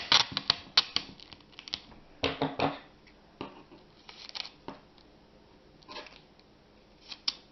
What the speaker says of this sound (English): Now you just take a second piece of tape, if I can get it to go.